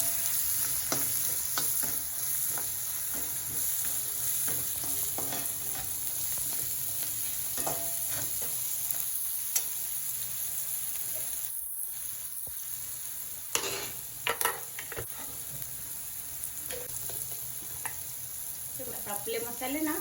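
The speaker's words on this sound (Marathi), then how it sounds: "हे मसाले चांगले भाजून घेऊया लालसर" Whole spices roasting in hot oil in a pan for Mumbai-style aloo bread pakoda, a steady close sizzle with scraping stirs and a brief pause midway, no talking heard.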